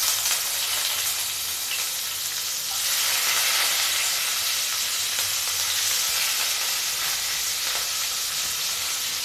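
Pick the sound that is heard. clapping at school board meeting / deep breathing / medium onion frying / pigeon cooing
medium onion frying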